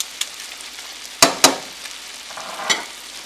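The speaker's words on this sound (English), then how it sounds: "Add the pre-prepared snails to the pan, mix them in with the sauce, and add the garlic and most of the parsley." Pre-prepared snails with garlic and parsley sizzle in a sauce in a pan, a steady low frying hiss broken by a few sharp stirring clatters, close by and with no talk.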